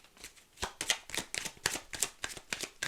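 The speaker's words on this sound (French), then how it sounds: "je vais battre mes cartes" Tarot cards being shuffled by hand, a quick run of crisp papery riffles and taps repeating close up and fairly quiet, with no talking.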